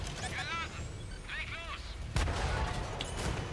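A tank cannon fires in World of Tanks with a deep boom that lands partway through. It is followed by rumbling combat noise, and a faint voice is heard earlier.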